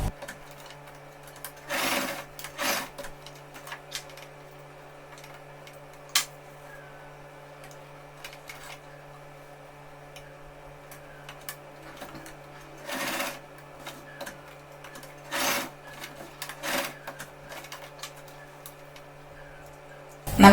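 A sewing machine stitches the side of a cotton face mask in short separate runs, a rapid whirring chatter with quiet pauses and faint ticks between them, close and clear with no talking.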